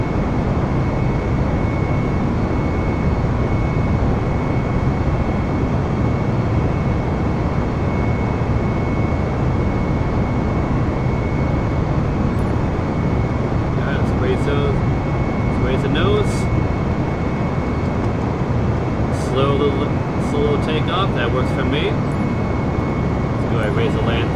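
An airliner's engines roar as it takes off from Charlotte Douglas International in Microsoft Flight Simulator, a loud, steady, broadband drone, with a voice talking intermittently over it in the later part.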